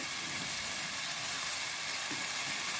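Bitter gourd pieces fry in a generous amount of hot oil, giving a dense, continuous sizzle that stays loud and close throughout with no talk over it.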